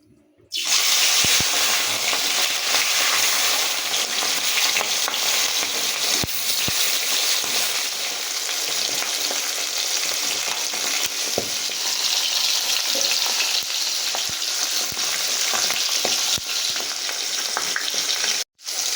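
Katla fish fries in hot oil in a wok, giving a loud, continuous sizzle with occasional sharp crackles and pops, steady throughout until a brief cutoff near the end.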